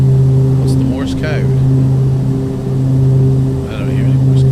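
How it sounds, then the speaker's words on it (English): Steady drone of the Dornier Do 228 aircraft engine in the Prepar3D v5 flight simulator, a constant loud hum with strong tonal layers, while a person talks briefly over it. "I mean, that's that noise there. That's the engine."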